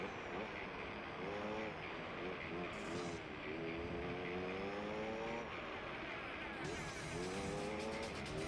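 Turbocharged racing car based on an old McLaren in Gran Turismo 3, its engine screaming steadily through repeated rising gear pulls, loud and close with no talk.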